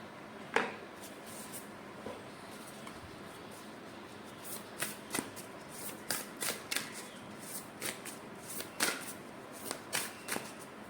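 Oracle cards being shuffled by hand, with a run of crisp riffling bursts and soft slaps that start sparse and quicken into a steady, close, fairly quiet rhythm, no voices.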